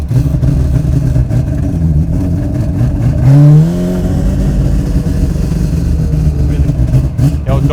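A Mazda RX7's 26B rotary engine idles with a rough, lumpy burble, rising briefly in a quick rev before settling back to a steady throaty drone, loud and close.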